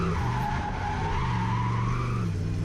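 A turbocharged 1UZ Lexus LS400 drifts on a track at a drift day, its tyres skidding and squealing loudly over a droning engine in one sustained, close pass.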